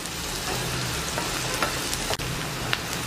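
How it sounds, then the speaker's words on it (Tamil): Fennel seeds sauté in hot oil for a prawn thokku, giving a steady close crackling sizzle with a low hum beneath and a single sharp tap near the end, with no voices. "இப்போ சோம்பு நல்லா எண்ணெயில் வதக்கிட்டோம்."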